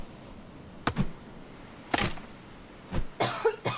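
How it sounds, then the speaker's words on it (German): A handful of short, sharp coughs, close and isolated, spaced a second or so apart, with the last ones bunched together near the end. "ich habe gehustet"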